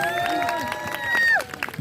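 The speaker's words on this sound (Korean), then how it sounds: "다시 한 번 박수 한 번 부탁드리겠습니다" Concert audience applauding with scattered cheers, a busy burst of clapping mixed with high voices and whoops, fairly close and lively.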